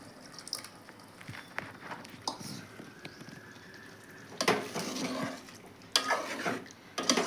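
Tamarind extract poured into a simmering okra curry in a home kitchen, giving soft liquid splashes and stirring clatter in uneven bursts, louder toward the end, with faint background voice.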